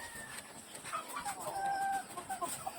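Laying hens in an old coop clucking and squawking nearby, with a steady murmur of farmyard noise and scattered bird calls throughout.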